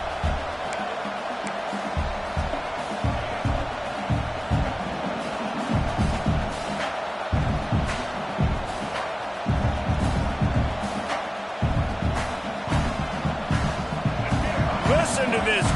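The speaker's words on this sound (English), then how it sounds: "Listen to this crowd just shaking the girders of this place, trying to help their defense." Football stadium crowd during a Gators versus Aggies game, a vast sustained roar with rhythmic thumping swells, heard under a commentator's continuous talk.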